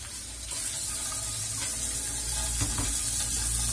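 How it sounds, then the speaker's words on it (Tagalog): Running tap water pours steadily as vegetables are washed under it, a continuous broadband hiss with faint handling clatter, close and fairly loud, no talking. "Yan, hugasan muna natin."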